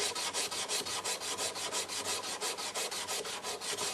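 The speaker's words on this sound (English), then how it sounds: "sand it out side to side, and remove any of those circular lines before moving on to the next grit" Sandpaper rubbed side to side across a wooden pen blank spinning on a lathe, a close, quick, even series of raspy swishes at roughly five strokes per second, with no talk.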